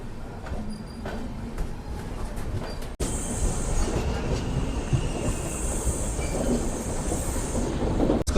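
A passenger train rolls along the tracks after pulling out of Sevagram Junction, a loud continuous rumble with rattling carriages, heard from inside; a brief cut near three seconds and the noise swells slightly afterward.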